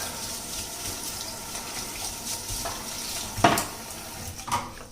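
Butter melting in a pot on the stove, bubbling and sizzling as its water cooks off, a steady soft hiss broken by a few brief louder pops near the end.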